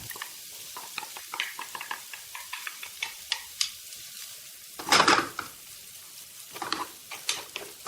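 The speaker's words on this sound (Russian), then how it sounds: "Затем лук, чеснок и имбирь. Обрумяните до золотистого цвета." Onion, garlic and ginger fry in oil in a pan for fried rice, giving a soft, steady sizzle. A utensil ticks and scrapes against the pan while stirring, with one louder burst of sizzling midway.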